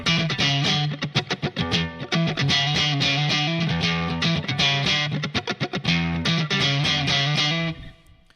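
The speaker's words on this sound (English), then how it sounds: "Here's the sag on 100." Electric guitar through a Line 6 Pod HD500 Fender Deluxe Reverb normal-channel model, sag set to 100, plays a longer loud run of driven strummed chords with fast choppy bursts between sustained hits before a final ringing fade.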